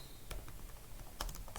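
Computer keys are tapped on a keyboard while an email address is entered, a few quiet close clicks with a short cluster of quick strokes near the end and no talk.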